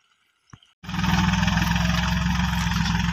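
A tractor-mounted onion sowing machine that also forms raised seedbeds starts up after brief quiet and runs steadily, a loud, close, continuous engine drone with a low rhythmic throb and no voices.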